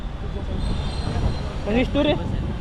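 Pune metro train ride from inside the carriage: a steady low rumble with a short burst of high wheel squeal near the end, and voices talking over it.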